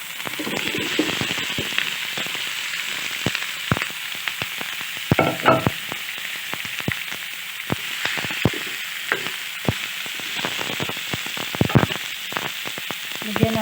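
Squash sizzles in a pan with browned garlic and onion, giving a continuous close crackle full of sharp pops and occasional scraping stirs.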